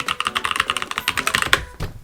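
Rapid keystrokes clatter on an iPad Pro 11-inch keyboard nearby, a quick irregular burst of clicks ending with a couple of louder taps.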